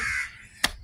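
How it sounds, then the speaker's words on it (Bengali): A single short, sharp crow caw breaks out near the end, after a brief stretch of tonal background sound. "কাকে ডাকে, শালিক পাখি ডাকে"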